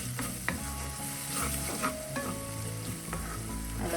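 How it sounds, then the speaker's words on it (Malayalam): Spice masala fries in oil for a Kerala-style modha fish curry as a utensil stirs it, giving a steady close sizzle and repeated scraping and clinking strokes against the pan. "ഈ സമയം നമുക്ക് എല്ലാം കൂടെ ചേർത്തൊന്ന് മിക്സ് ചെയ്യും."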